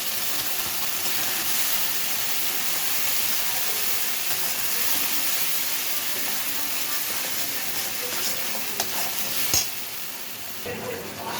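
Fried onions sizzling in a pan with mustard paste for a Bengali mustard-poppy fish dish, a dense steady hiss and crackle close up, with faint stirring scrapes toward the end.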